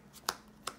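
A quick riffle of playing cards being shuffled, two short crisp bursts close by.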